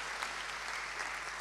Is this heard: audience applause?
yes